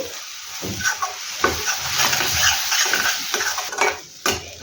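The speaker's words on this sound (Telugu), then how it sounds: "ఈ కొత్తిమీర పుదీనా పచ్చివాసన పోయేంత వరకు కొద్దిగా ఫ్రై చేసుకుందాం" Mint and coriander paste for egg curry fries and sputters in a pan, loud sizzling broken by repeated scrapes and clinks of a spoon stirring against the metal.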